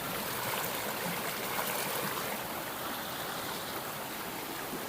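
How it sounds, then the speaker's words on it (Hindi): The Mandakini river rushes and gurgles through the Chitrakoot forest near Janki Kund, a steady, close, broadband flow with no voices. "छन छन कल कल करती हुई ये मंदाकिनी नदी यहाँ पर बह रही है"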